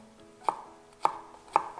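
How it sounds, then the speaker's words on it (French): Knife chopping ingredients into a fine brunoise for Hainanese-style chicken rice, three sharp, evenly spaced blade strikes on a board, close and clear with no talk. "Et je coupe en brunoise."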